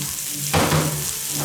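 Onions dropped into an Instant Pot coated with fond from searing pot roast, a brief sizzle that swells as they hit the hot surface and are stirred, then settles, with no talking.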